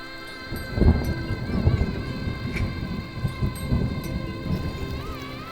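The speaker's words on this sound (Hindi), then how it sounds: "लगातार हो रही बारिश" Steady rain falling on the Satopanth Glacier trek in the Himalayas near Badrinath, a continuous close patter with heavier bursts and a low rumble beneath, no talking.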